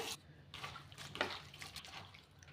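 Water splashes and trickles in a bowl as sliced cabbage is washed, with a soft steady wash of running liquid and faint clinks, close by and moderately quiet.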